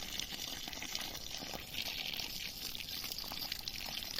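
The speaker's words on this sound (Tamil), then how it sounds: "கொஞ்சம் தண்ணி ஊற்றிட்டு இருக்கவே." Steady splashing and trickling of water being poured onto red rose plants in a garden, soft and close, continuing without pause; no talking.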